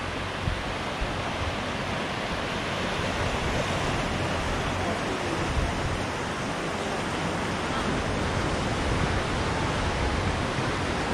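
Steady broadband roar of ocean surf on Shrivardhan beach, a coconut-lined Indian shore, rolling continuously and fairly close with no talking over it.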